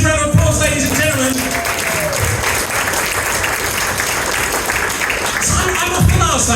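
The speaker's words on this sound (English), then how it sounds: "Give Sandra a massive round of applause, ladies and gentlemen." Audience at a corporate dinner applauding a guest named Sandra: a dense wash of clapping that swells and holds for several seconds, with a voice heard briefly at the start and end.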